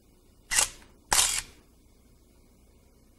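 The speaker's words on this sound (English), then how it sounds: "Shutter speed governs the length of time the shutter remains open, thereby exposing the film to light." Two crisp camera shutter releases about half a second apart, each a sharp click with a brief mechanical whir, loud and close in an otherwise quiet room, from a camera used to photograph scale models.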